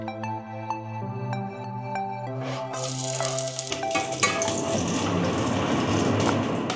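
Lean ground beef with capsicum, peppers and carrots cooks in a pan over very low gas, starting with a faint ringing tone before a steady sizzle rises and continues.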